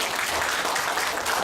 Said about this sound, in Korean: 발표 수고해준 오조에게 큰 박수 보내주시고